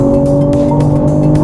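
A loud BMW M340i engine in Sport Plus mode holds a steady high roar up close, droning continuously with no voices.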